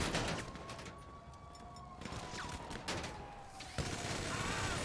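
A minigun fires in a GTA V gunfight in a dense, continuous roar of rapid shots, with sirens wailing underneath and sharper cracks breaking through, all steady and loud from start to finish.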